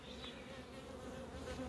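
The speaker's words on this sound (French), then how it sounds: "on a vu que la hausse était moitié pleine en abeilles" Honeybees buzzing steadily inside a hive whose super is only half full, a dense, continuous drone close by with no voices.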